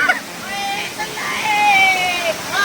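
Palshi waterfall in Maharashtra, on the trek toward Devkund, gives a steady broadband rush of falling water, moderately loud and continuous, with faint voices and tonal calls over it.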